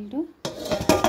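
A knife cuts banana flower on a board, giving a few sharp close chopping knocks and clatters right after a short burst of speech.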